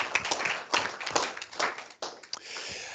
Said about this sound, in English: I suggest a round of applause for the team of Thermo Biowaste Recycling